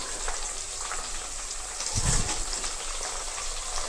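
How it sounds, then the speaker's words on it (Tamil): A steady bubbling hiss of homemade hair oil heating in a pan over medium flame fills the clip, with a brief low rumble in the middle and no voices. "மீடியம் ஃப்ளேமில் வச்சு நீங்கள் வந்து கொதிக்க விடலாம்"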